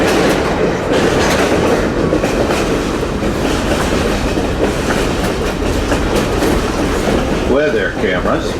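A Conway Scenic Railroad train rumbles steadily along the rails with a dense, loud clatter of wheels and some squealing near the end.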